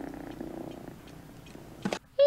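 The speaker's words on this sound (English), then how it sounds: "Look at this kitty." A cat purrs close by in a steady low rumbling rhythm, fading toward the end before a brief sharp noise and a short high tone cut in.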